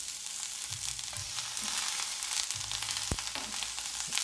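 Ginger hits a hot pan for fried rice and sizzles in a steady broadband hiss, with a few soft clinks and one sharp tap near the end, close and fairly quiet.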